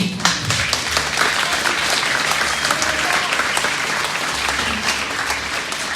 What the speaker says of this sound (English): you need to give your parents a big round of applause and be grateful.